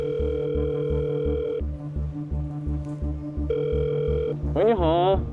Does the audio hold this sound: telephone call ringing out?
yes